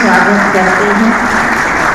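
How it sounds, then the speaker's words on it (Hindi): Loud, steady applause fills the hall as an audience at a Brahma Baba memorial day program welcomes a speaker, with voices faintly mixed into the sustained clapping. "भ्राता जी का जोरदार तालियों से हम स्वागत करते हैं"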